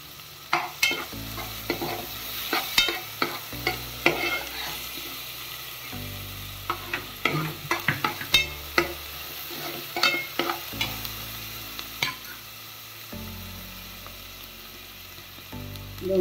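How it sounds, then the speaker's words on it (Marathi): Ginger garlic paste sautéing in a pan for Hyderabadi chicken: a steady sizzle under repeated scraping and stirring strokes, with clattering utensil hits rising and falling in an irregular rhythm, close and fairly quiet. "त्याच्यामध्ये आलं लसूण पेस्ट टाकते. हे परतते."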